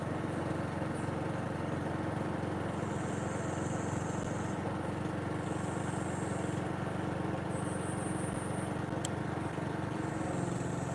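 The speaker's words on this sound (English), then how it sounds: "It's a grinder. It's a gas grinder." A gas-powered grinder drones steadily and continuously in the background, a faint, even engine-like hum with no pauses, accompanied by intermittent high-pitched chirps overhead.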